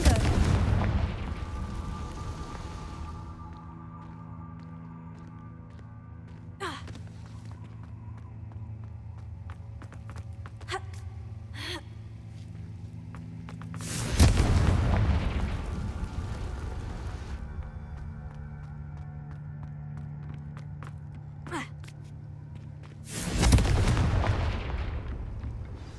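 Fiery Confringo spell blasts from the video game Hogwarts Legacy, with two loud bursts roughly nine seconds apart over a steady droning game ambience and scattered smaller effects.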